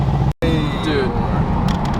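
A tuned Mercedes C63 AMG engine rumbles loudly and steadily from inside the moving car, with a brief dropout early on and people talking over it.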